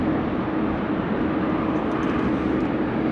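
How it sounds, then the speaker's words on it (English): A Jetstar Boeing 787 airliner on short final approach to runway 16 right at Sydney Airport, arriving from Ho Chi Minh City, with a loud, steady broadband engine roar throughout and no voices. "It's a Boeing 787 coming in from Ho Chi Minh City. He's on short finals now for 16 right."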